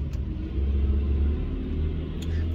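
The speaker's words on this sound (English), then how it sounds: "it's a big old truck that just passed by" A big truck passing by outside, a steady low rumbling drone that holds throughout at moderate level, with no voices.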